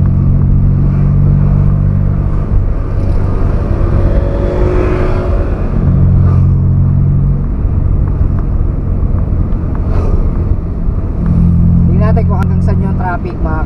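Long line of cars stuck in road traffic in Pansol, a loud, close engine drone with low humming that swells and fades in stretches, plus passing vehicle noise and a short rising whine near the end.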